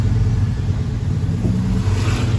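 A Citroën 2CV's small engine rumbles low and steady from inside the car as it rolls toward a stop in Paris traffic without the clutch, a continuous droning burble with no speech.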